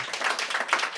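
A brief burst of applause, a short patter of clapping hands lasting about a second, close and moderately loud.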